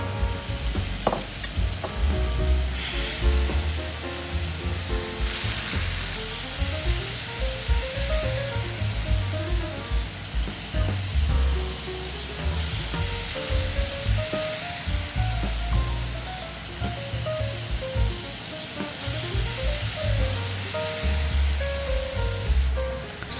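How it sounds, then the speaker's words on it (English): Green chili peppers frying in garlic sauce in a pan, a loud continuous sizzle with occasional stirring scrapes, close up and steady throughout without speech. "Then you put the chili peppers in the garlic sauce"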